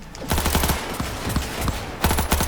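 Automatic gunfire from a spraying bullet gun in Cyberpunk 2077, loud rapid bursts of shots in a fast stuttering rhythm, close and dense, pausing briefly before another burst.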